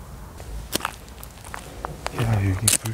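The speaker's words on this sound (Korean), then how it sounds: "야, 발소리 안 들려요?" Footsteps inside an abandoned, reputedly haunted house, a few scattered thuds and creaks mixed with people talking close by.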